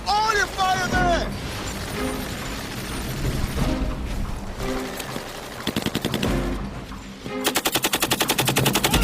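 Gunfire pours toward a tree line in a Korean war film, with loud shots and bursts under shouted voices, building to a fast, rhythmic rattle of automatic machine-gun fire at the end.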